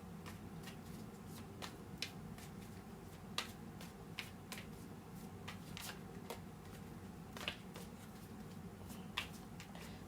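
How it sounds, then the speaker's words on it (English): Tarot cards are shuffled steadily and quietly, a soft papery riffle with occasional crisp snaps and flicks, close by and with no talking. "you can fast forward through all the shuffling if you want to"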